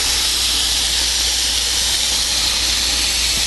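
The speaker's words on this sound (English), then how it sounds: "Oh, I can smell that marinade cooking." Marinated chicken sizzling on a grill outdoors at an RV campsite, a loud, steady, broadband hiss that holds unbroken throughout with no talking.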